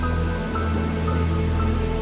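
Steady, dense rain pattering on a surface in a stormy night scene of a narrated Hindi story, a continuous close wash with no voices.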